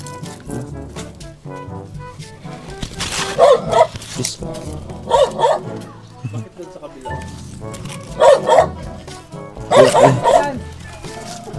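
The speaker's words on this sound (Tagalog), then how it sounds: "Tapang ng aso." Dog barking fiercely outdoors in bursts of loud, repeated barks, with people talking and moving around it.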